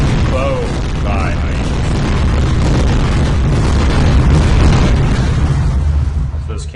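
Cannons fire and explosions boom in the video game Battle Fortress Tortoise, a loud continuous barrage of thuds and rumbling blasts filling the whole stretch, with a brief whistling tone near the start.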